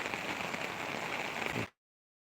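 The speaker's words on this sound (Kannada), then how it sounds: "ಸ್ವಲ್ಪ ಕಮ್ಮಿ ಆಯಿತು ಇವಾಗ ಮಳೆ" Heavy rain pouring over a flooded village field, a dense, even hiss of falling water up close that stops abruptly, with no voices.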